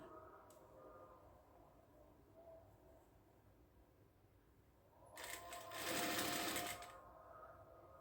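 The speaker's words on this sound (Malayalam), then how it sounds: "ഇവിടെ ഒന്ന് ഡബിൾ സ്റ്റിച്ച് കൊടുക്കുക" A sewing machine runs a short, loud burst of double stitching on a hijab cap. The fast, steady whir stands alone against quiet room noise.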